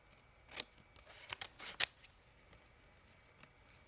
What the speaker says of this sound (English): Wonder if it'll be easier with these scissors.